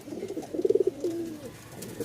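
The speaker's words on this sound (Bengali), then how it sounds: "যাদের এরকম কোয়ালিটির কবুতর পছন্দ, দেখেন ফুল মুডে আছে, ফুল মুডে।" Rajshahi Giribaz pigeons cooing close by in a breeding loft, a soft throaty burst of rapid pulsing coos followed by a drawn-out rolling note, quiet and without talk.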